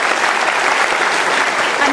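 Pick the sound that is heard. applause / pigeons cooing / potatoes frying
applause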